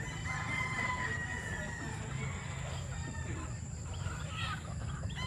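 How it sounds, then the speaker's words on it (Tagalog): Early bird gamefowl roosters crow faintly in the background on a farm, with a steady low hum and noise throughout and occasional distant crowing calls. "Malalaki na yung mga early bird ni Francis Alpia"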